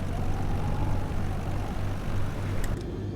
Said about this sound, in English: You can hear the wind, the strength of the wind.